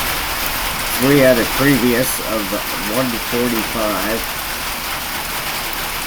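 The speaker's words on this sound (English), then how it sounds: "I apologize about the rain." Steady rain falls during an outdoor recording, a constant broadband hiss of drops on surfaces. Someone talks over it through the middle of the clip.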